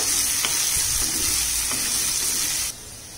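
Onions, ginger, garlic and curry leaves sauté in oil for a Chettinad mushroom gravy, a steady close hissing sizzle with occasional stirring scrapes, dropping abruptly quieter near the end.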